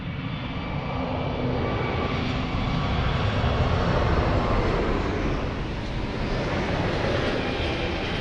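An airplane departs Lisbon Airport with a loud, continuous jet engine roar that stays strong and steady throughout, close and broadband with no voices.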